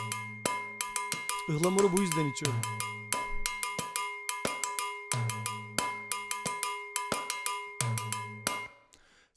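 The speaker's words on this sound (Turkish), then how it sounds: "Timbalde en üstteki kampananın minik demir parçası diye tarif edeyim size" A bright metallic cowbell mounted on timbales is struck in a quick syncopated cascara pattern, alongside a tuned timbale drum with a pitch-bending stroke early on; a voice speaks briefly.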